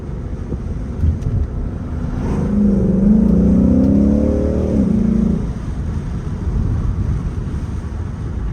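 Ford Mustang GT accelerating hard in Sport Plus mode, heard from inside the car as a loud engine rise that builds for about three seconds and then settles back into steady road and wind noise.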